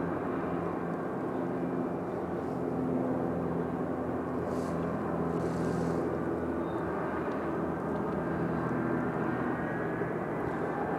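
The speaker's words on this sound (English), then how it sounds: "Absolute smooth landing for our 757 here." A Boeing 757 airliner lands at Raleigh-Durham International Airport, a steady broad roar of engines and rushing air heard from a distance for about eleven seconds with no talk.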